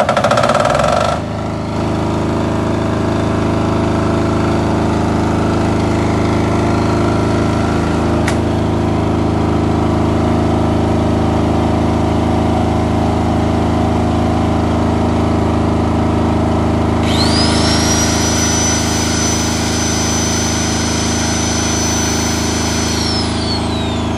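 A silent-type 10 kVA three-phase generator set, rated 7500 watts maximum, fires up and settles into a loud, steady engine drone that runs continuously, with a high whine rising near the end and no talk over it.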